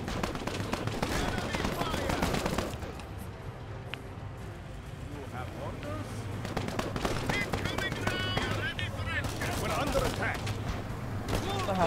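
Rapid bursts of gunfire from the War Alert WWII real-time strategy game, crackling volleys and staccato shots recurring throughout under excited talk from a player.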